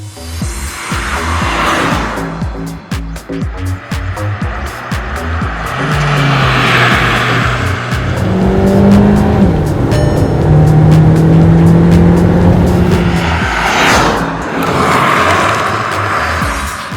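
A Skoda Kushaq crossover engine revs hard and climbs in pitch, drops briefly and rises again through several paddle-shifted gears, loud and close with no talking.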